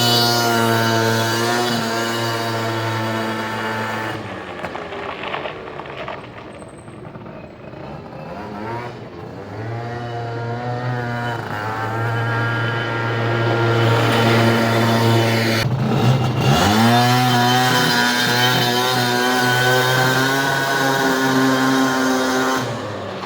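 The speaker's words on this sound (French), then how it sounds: "je vais vous mettre une vidéo où je fais une accélération avec les galets d'origine" A derestricted Peugeot Speedfight 4 scooter with original variator rollers accelerates hard. The loud, close engine whine climbs steadily in pitch, dips and builds again twice, with no talking.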